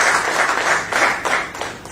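Audience at a Delhi BJP health volunteers campaign launch claps loudly in sustained applause welcoming Tarun Chugh, dense and steady throughout.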